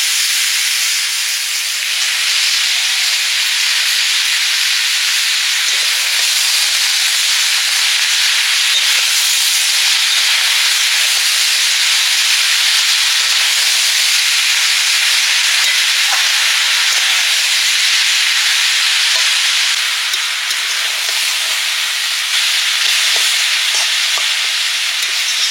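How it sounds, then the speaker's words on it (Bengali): Onion paste and greens stirred and frying in a pan give a steady, loud, close sizzle and hiss that runs the whole way through, with no voices over it. "পেঁয়াজ বাটাটা এখনই দিয়ে দিলাম, একটু নাড়াচাড়া করে নেব।"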